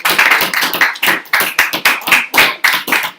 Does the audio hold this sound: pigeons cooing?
no